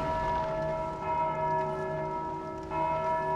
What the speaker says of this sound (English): Do the bells summon the people?